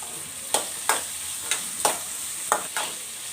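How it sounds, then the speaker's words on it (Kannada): Chopped carrots and beans fry with onions in a pan for vegetable chitranna, steady sizzling punctuated by about six sharp, rhythmic spatula strokes scraping and knocking against the pan. "ಈಗ ಈರುಳ್ಳಿ ಜೊತೆಗೇ ತರಕಾರಿನೂ ಚೆನ್ನಾಗಿ ಫ್ರೈ ಆಗೋದಕ್ಕೆ ಚೆನ್ನಾಗಿ ಮಿಕ್ಸ್ ಮಾಡಿ"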